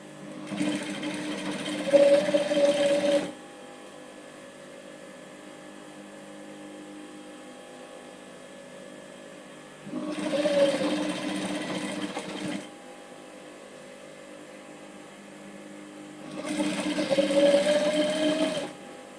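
Sewing machine stitching an elastic waistband short, three separate bursts of fast whirring motor hum with quiet pauses between them.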